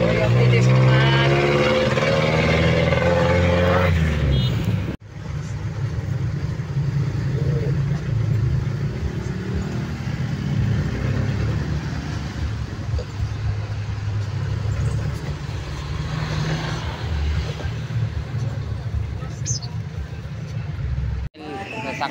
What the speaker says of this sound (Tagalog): Sakay na ako ng tricycle dito.